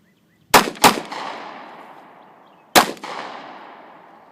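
Handgun shots from a Mozambique drill fired while stepping right: two sharp cracks in quick succession, a pause, then a third shot, each ringing out with an echoing tail at an outdoor range.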